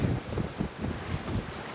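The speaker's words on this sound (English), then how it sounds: "It's also quite windy" Strong wind buffets a sailboat out at sea in an offshore breeze of about 20 knots, a continuous low rushing roar with gusty surges and microphone buffeting, close and loud throughout.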